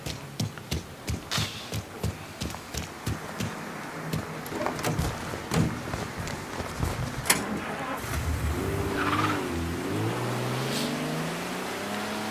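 In the Mafia III video game, a car engine cranks and starts partway through, then settles into a steady mid-pitched idle and rev, following a run of rhythmic, evenly spaced thuds.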